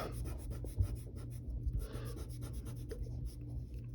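A pencil eraser rubs over paper to clear construction lines from a drawing, giving close, soft scrubbing strokes in quick irregular bursts.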